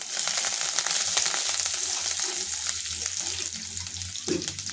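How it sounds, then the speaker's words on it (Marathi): Finely chopped curry leaves with mustard seeds crackling in hot oil for a raw mango chutney, a dense bright sizzle that holds steady and close throughout, a faint voice barely present underneath. "आता कढीपत्ता घालूया बारीक चिरलेला।"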